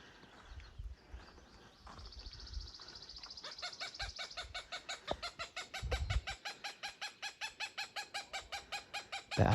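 A mother Cooper's hawk calls aggressively near its nest, a rapid rhythmic series of harsh repeated cackling notes, loud and close, building steadily after a few quieter rustles.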